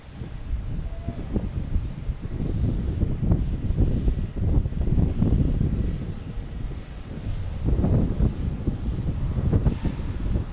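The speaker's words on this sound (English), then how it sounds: "We got JetBlue backing out here" A JetBlue airliner pushes back at Logan Airport, its engine noise a steady, fairly loud rumble that swells and eases over about ten seconds with no talking.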